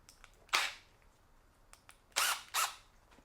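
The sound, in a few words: Milwaukee installation drill/driver running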